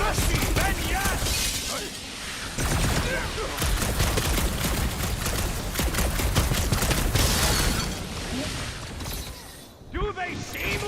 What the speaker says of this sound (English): If they're shooting at us, then yes!